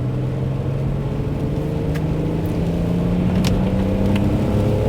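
A cheap BMW X5's engine turns over and settles into a steady low idle rumble, continuous and close, with faint higher whines and clicks over the drone.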